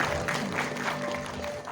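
Applause from an audience at an award ceremony and anniversary celebration in Uttarakhand, a steady, dense wash of clapping that carries through the whole moment with a faint crowd murmur beneath it.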